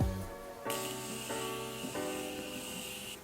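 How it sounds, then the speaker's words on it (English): A short hiss of a Morphe Continuous Setting Mist spray bottle sprayed on a face begins partway in and continues steadily over soft background music, a fine airy spray rather than a single burst. "I'm gonna go in with my Continuous Setting Mist by Morphe also, and spray my face"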